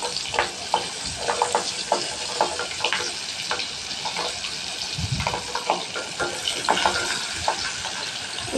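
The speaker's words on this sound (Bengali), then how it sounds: "কাঁকড়ও ভেজে নিব।" Crab pieces sizzle and crackle steadily while frying in hot oil in a home kitchen, a loud continuous spitting with occasional stirring clinks.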